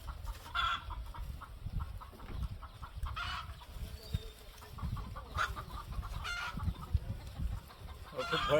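Backyard chickens cluck faintly, with scattered calls and a possible distant crow, over a low, steady outdoor rumble.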